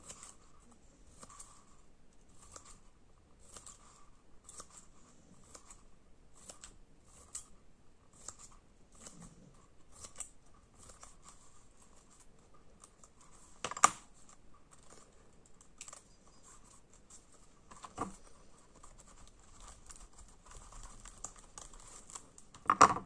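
Paper is snipped with scissors while making paper dahlia flowers, giving a string of quiet, regular crisp cuts, with a couple of louder paper crinkles and handling rustles in a hushed room.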